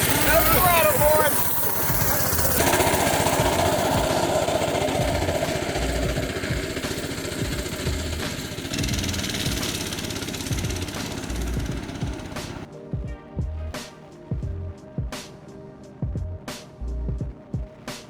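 A mini bike engine idles in mud with a steady low rumble, joined by sharp intermittent clicks or knocks toward the end, while people talk and call out over it.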